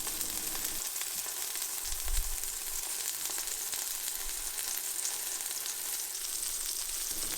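Provolone cheese frying in shimmering hot oil in a preheated pan gives a steady, dense sizzle and crackle that holds unbroken throughout, with one brief low bump partway in and no voices.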